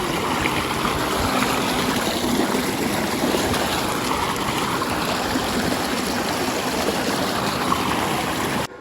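Water gushes steadily from a newly installed motor pump, a loud, continuous close-up rush and splash that holds evenly throughout and cuts off abruptly at the end.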